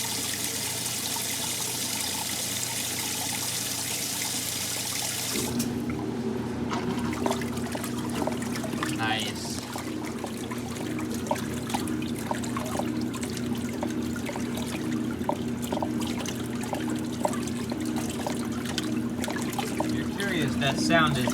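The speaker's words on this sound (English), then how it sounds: "that sound is just water splashing in there." Water swishes and splashes inside a Maytag washing machine running on its largest load setting, a continuous churning wash with a steady motor hum underneath and faint rhythmic sloshing throughout.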